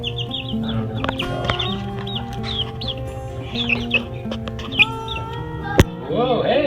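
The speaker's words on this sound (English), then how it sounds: "these chicks are 2 weeks old approximately" Two-week-old chicks in a backyard coop chirp and peep continuously in high, overlapping calls, with a steady low hum underneath and a sharp tap near the end.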